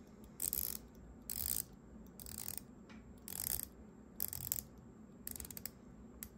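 The rotating bezel on a Fortis Cosmonaut Chronograph Monolith in black PVD is turned in six short bursts, each a rapid run of crisp ratcheting clicks, close and quiet, separated by brief pauses.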